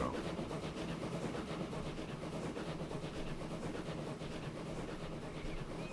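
Train riding in the video game Transport Fever 2: a steady, even rumble of a rail car rolling along, with faint rhythmic clatter, continuous and unbroken with no voices.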